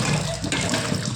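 Running water pours over a fish being rinsed, a steady close splashing stream that continues throughout with no talk.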